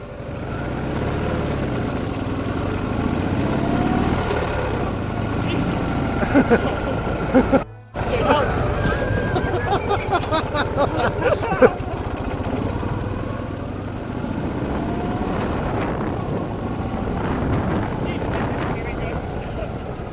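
A Neval Russian sidecar motorcycle engine chugs close by at a steady rumble, then pulls away with rising throttle pulses, while someone talks over it throughout.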